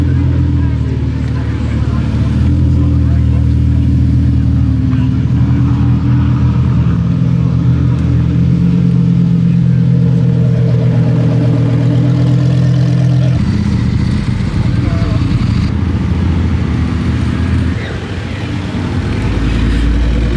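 A Lamborghini Huracan Tecnica and a Ferrari 488 Pista pulling out at a supercar breakfast meet at Goodwood, deep engine rumble that swells and revs, loud and close, with a crowd murmuring around.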